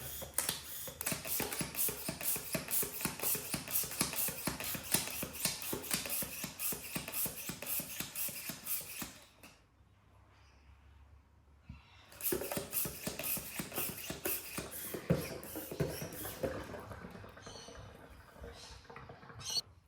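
A hand pump handle worked repeatedly to draw oil from a Briggs and Stratton lawn mower engine gives rapid, close mechanical clicking and ratcheting. The clicking stops for about three seconds midway, then resumes.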